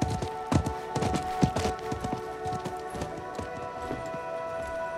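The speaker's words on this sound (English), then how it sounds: "I think that was the merchant's horse" A merchant's horse gallops in the Diablo 4 video game, its hooves beating out a rhythmic, close clip-clop over about five seconds, with no voices.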